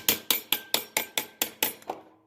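Hammer tapping a washing machine part through a small plastic tube, about eight sharp, evenly spaced metallic knocks close up, followed by a softer final tap and a brief ringing decay.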